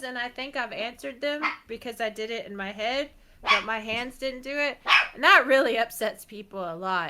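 A dog barks repeatedly in the background while someone talks steadily over it.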